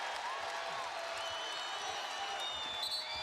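Crowd at a college basketball game between UNC Asheville and Tennessee, cheering and applauding after a three-pointer, a steady dense roar with scattered whoops throughout.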